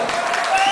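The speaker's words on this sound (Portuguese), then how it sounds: "Salva de palmas." Concert crowd applauding for the band in a brief, dense burst of clapping, close and fairly loud, with a faint tonal hum running underneath.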